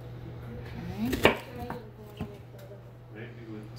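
A knife chops onion very thin on a board in a home kitchen, a few sharp taps standing out over a steady background hum.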